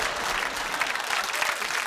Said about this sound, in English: It's a worrying round of applause